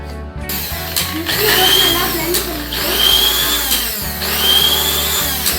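An electric mixer whirs loudly in bursts while blending homemade mayonnaise with oil, its motor rising and falling in three pulses with brief clicks between them, and a voice speaks over it.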